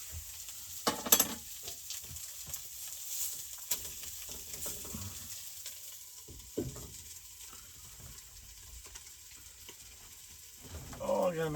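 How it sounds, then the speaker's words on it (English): Breakfast fries in a crowded frying pan at a snowy mountain truck campsite, a quiet, continuous sizzle broken by occasional clinks and stirring clatter. "It's got too much in the frying pan right now to cook"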